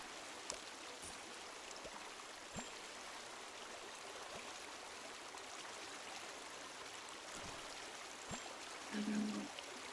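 A waterfall seen from a distance gives a faint, continuous hiss of rushing water, steady and quiet throughout, with a few soft clicks and a brief low hum near the end.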